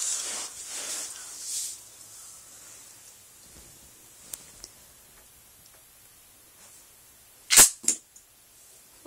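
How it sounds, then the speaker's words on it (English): Lego crossbow prototype firing, a quiet stretch of faint rustles and ticks ending in a sharp snapping release with a second quick crack just after, close and brief. "looks like we missed. But it fired."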